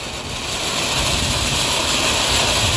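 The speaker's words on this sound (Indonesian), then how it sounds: "selanjutnya kita nyalakan mercon Conic Fountain 3 in 1 yang warna hitam" Loud continuous hissing and roaring of a burning Conic Fountain 3 in 1 firework fountain, a steady, dense spray of noise with no breaks.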